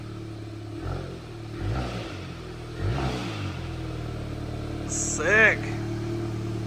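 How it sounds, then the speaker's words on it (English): A salvage car's engine runs cold with a low, lumpy idle, then gives one short, light rev that rises and falls near the end while people talk briefly around it. "give it a little light cold rev"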